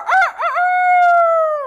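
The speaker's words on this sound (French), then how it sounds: "les villageois s'éveillaient au chant du coq" A rooster gives a single loud, close cock-a-doodle-doo, with two quick choppy notes that lead into a long sustained final call.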